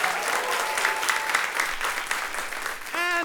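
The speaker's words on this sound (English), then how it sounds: "Please give them a round of applause." Loud, close applause from a live audience at a show, clapping for the judges, steady throughout with faint voices in the crowd and a brief tonal note at the end.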